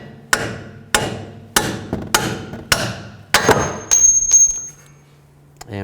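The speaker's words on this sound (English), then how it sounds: "I'm going to take a hammer, just support underneath the rotor and tap these bolts out." A hammer taps strut bolts out of the steering knuckle of a 2011-2014 Chrysler 200, six sharp metallic strikes at a steady rhythm, close and loud, followed by a lighter clatter.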